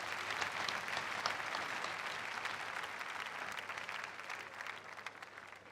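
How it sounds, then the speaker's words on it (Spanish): A church congregation claps together in a sustained, even wash of applause, fairly distant and soft, continuing without voices for the whole stretch. "Vamos a aplaudir a Jesucristo."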